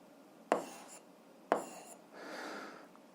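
Pen strokes scratch across paper while an equation system is written down: two quick sharp strokes, then a longer softer scribble, close and quiet, with no speech.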